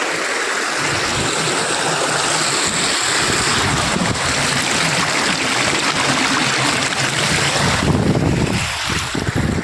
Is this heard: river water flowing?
yes